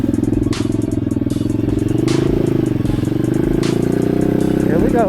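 A supermoto motorcycle engine drones loud and close while riding through town, a steady buzzing hum with slight rises in pitch and faint wind rush, under a voice speaking.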